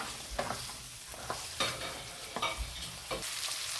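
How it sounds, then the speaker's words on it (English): Lamb pieces frying in oil in a pot for a Peshawari karahi, a soft sizzle broken by several scraping stirs at irregular intervals, fairly quiet and close, with no talking. "we're gonna kind of fry the meat in the oil"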